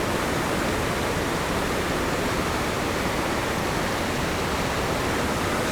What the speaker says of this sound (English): Just found a really cool waterfall on the side of the road